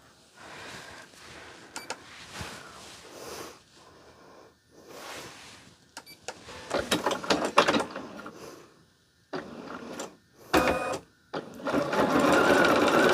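A machine embroidering a quick holiday gift runs in uneven stretches, a fast mechanical whirring and clattering of the needle that starts, stops and restarts, nearby and fairly loud, with quieter gaps between runs.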